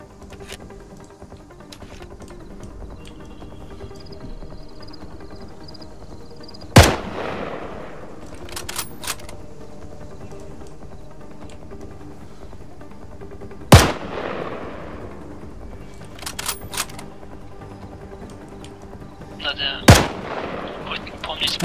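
ArmA 3 gunfire rings out in three sharp loud shots spaced several seconds apart, each with a rolling echo, over a low ambient background.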